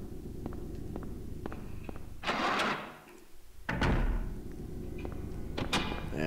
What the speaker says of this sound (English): sounds like the door locked behind us